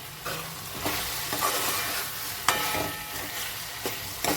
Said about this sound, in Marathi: हा बघा आपण अधूनमधून हलवून घेऊ.